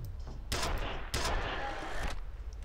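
Gunfire in the video game F.E.A.R.: a few sharp, loud shot bursts spaced about half a second apart, with echoing decay between them and a faint voice underneath.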